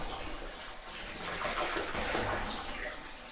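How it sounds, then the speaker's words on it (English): White vinegar pouring steadily into a jetted bathtub, a continuous splashing rush of liquid that swells slightly midway and runs without pause. "we're now going to pour in some of that white vinegar"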